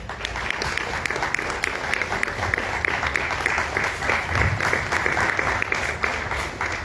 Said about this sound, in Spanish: Mónica Maristain y para Salomón Villaseñor, pido un aplauso.